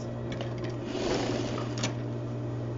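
A sewing machine runs steadily, stitching a lining vent on a garment with a constant mechanical hum and light needle clatter, close and unbroken.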